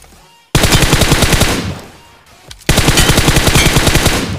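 Automatic gunfire in the mobile battle royale game BGMI (PUBG Mobile), two long loud bursts of rapid shots separated by a brief quieter gap, with no talking.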